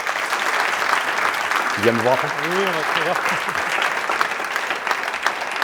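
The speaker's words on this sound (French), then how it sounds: "On peut l'applaudir, s'il vous plaît?" Audience applause at an evening talk on hypnosis, a steady wash of clapping throughout while a man and someone briefly talk over it.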